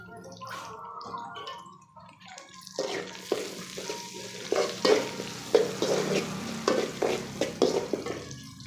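Curry leaves drop into hot oil and burst into a crackling sizzle, followed by a string of clinks and scrapes as the pan is stirred, close and fairly loud.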